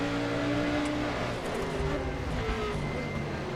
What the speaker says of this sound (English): those downshifts are epic